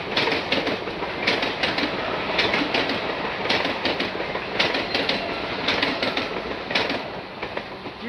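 A 15-car Mumbai suburban local train runs on its tracks toward Chhatrapati Shivaji Maharaj Terminus, a loud continuous rumble heard from on board, with a steady rhythmic clickety-clack of wheels over rail joints and no voices.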